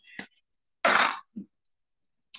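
A single sharp cough rings out between short throat-clearing noises, close and otherwise quiet.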